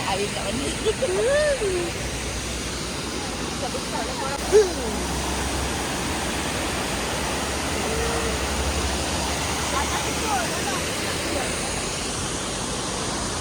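A fast-flowing waterfall stream at Cameron Highlands produces a steady, loud rushing roar throughout, with a faint voice briefly heard over it.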